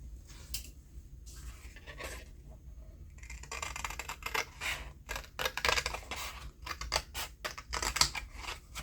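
Scissors cutting a sheet of paper in half, producing a series of crisp snips and rustles that grow busier and louder toward the end, heard up close with no talking.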